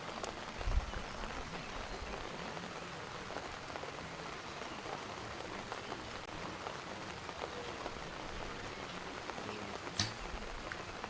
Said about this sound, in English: You can just hear the rain coming down on the umbrellas and tents.